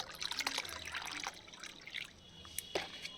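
Water soaked with onion and garlic peels poured into tea-leaf water for a hibiscus plant feed, a close, uneven liquid trickle and splash with a few brief drips.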